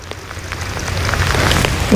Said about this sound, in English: Cloudy and rainy